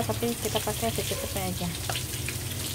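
Spring onion stir-frying in a pan for a tofu noodle dish gives a steady background sizzle and stirring, heard under continuous talking close by.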